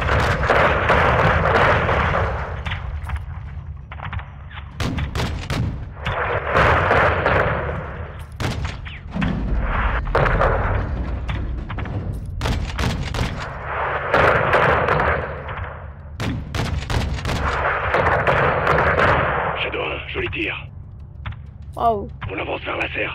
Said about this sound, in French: Feu à volonté.